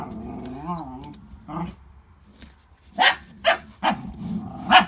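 Dogs bark indoors in a workshop, several sharp barks in quick succession near the end after a quieter stretch of whines and growls, fairly close and alone without talk.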